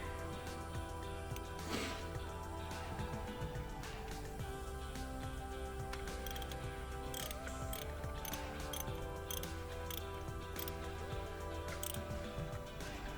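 A ratchet on a socket wrench tightens a spark plug, cylinder number 8, during a DIY tune-up on a GMC Yukon. It gives a steady run of close mechanical clicks and ratcheting over continuous background noise, with no talk.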